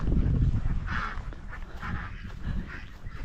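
A drake duck calls loudly in a farmyard, repeated raspy honking quacks near the mic over a busy background of other fowl.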